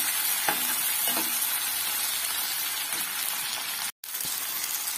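Masala being stir-fried (kosha) with a little sugar in a pan produces a continuous loud sizzle with scraping stirs every second or so and a brief gap near the end.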